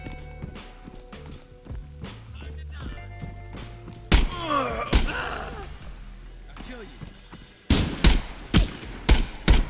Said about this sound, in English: Stop shooting at me through the floor